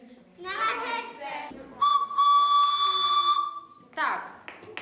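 A carrot fashioned into a whistle sounds a steady, piercing tone for about a second and a half, bracketed by nearby voices speaking before and after it.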